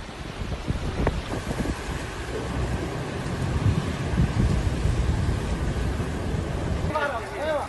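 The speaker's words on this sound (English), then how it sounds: "flooding and torrential rains submerging streets and homes" Torrential rain and thunderstorm flooding in Saudi Arabia: heavy rain roars with gusty wind buffeting the microphone, rumbling low thunder, and a voice is heard near the end.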